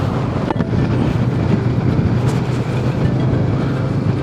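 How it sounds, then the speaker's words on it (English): Strong wind buffeting the microphone during a stop on a Royal Enfield Himalayan 450 motorcycle ride from Paro to Thimphu in Bhutan, a constant rushing roar with low gusty rumble. "It's so windy,"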